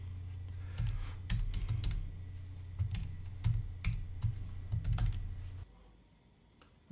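Typing on a portable iClever Bluetooth keyboard paired with a phone, a steady run of close, light clicking keystrokes in irregular bursts for several seconds before stopping.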